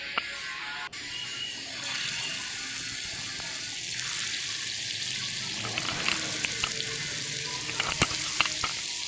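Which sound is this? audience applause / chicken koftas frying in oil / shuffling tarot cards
chicken koftas frying in oil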